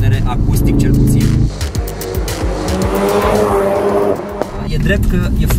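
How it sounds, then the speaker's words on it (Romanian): A Ford Focus RS's natural exhaust roars loud and close, a sustained, hard-revving engine note throughout with a brief dip partway through. "iată cum sună eșapamentul natural, fără niciun fel de electronică"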